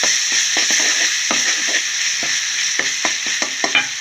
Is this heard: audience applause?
no